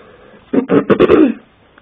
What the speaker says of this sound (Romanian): Doamne, cum tușesc.